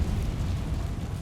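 A Confringo fire spell from the game Hogwarts Legacy explodes in a brief, deep, rumbling blast, heavy and roaring in the low end with no voices.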